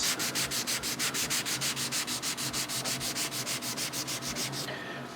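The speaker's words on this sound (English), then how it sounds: "Not a huge amount of sanding that needs to be done." Steady rhythmic sanding strokes on a painted guitar body, about twenty quick back-and-forth passes on a hard surface, close and continuous, with no talking.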